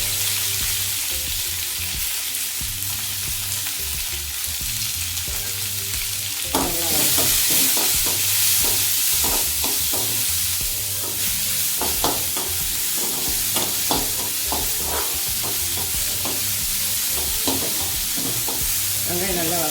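Chopped onions with crushed garlic, curry leaves and green chillies sauté in a pan for cauliflower rice. A steady sizzle runs throughout, and frequent spatula scrapes and clatters start partway through, with no voices.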